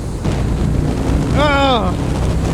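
Steady loud wind buffeting the microphone while riding a Harley-Davidson Road King motorcycle, a continuous roaring rush with engine rumble beneath and a brief voiced exclamation over it.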